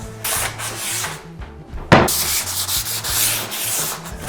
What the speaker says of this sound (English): Just a light scrub over all the way around.